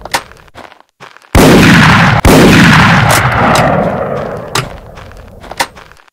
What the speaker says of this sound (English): that was a bad shot